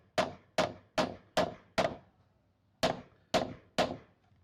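Hammer tapping a gear hub onto the shaft of a Samsung washing machine, eight sharp metallic knocks in two spaced bursts of five and three, close and fairly loud with no talking.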